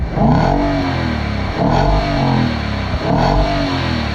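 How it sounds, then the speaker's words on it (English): A 2025 Nissan Patrol Warrior (Y62) V8 engine revs hard three times in steady succession, loud and close, with a throaty, crackling exhaust note from the side pipe. "some exhaust will come out that side pipe and give it a nice crackling V8 sound"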